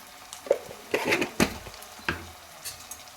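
Sliced onion frying in a pan as ginger-garlic paste is added, with several sharp clinks and scrapes of a utensil stirring against the pan over a low, steady sizzle.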